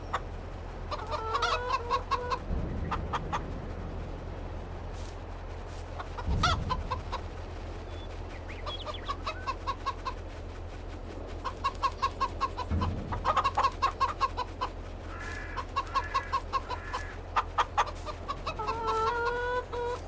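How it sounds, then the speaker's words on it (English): Chickens cluck repeatedly in a Farming Simulator 22 farmyard, with brown and black hens in the flock. Bursts of clucking come and go over a steady low hum, with a few louder thumps. "You see many chickens too."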